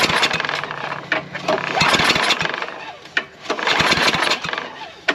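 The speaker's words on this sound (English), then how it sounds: "Let's just try and pull start it real quick." A snowblower engine is pull-started with the choke on, giving bursts of loud, broadband mechanical noise in repeated pulls that sputter briefly without settling into a steady run.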